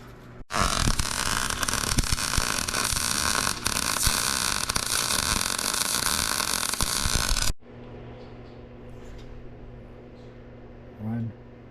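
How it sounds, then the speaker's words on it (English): A trailer hitch being welded, a loud continuous crackling hiss lasting about seven seconds and then stopping abruptly, leaving a faint hum and a short low sound near the end. "I'm gonna get to welding."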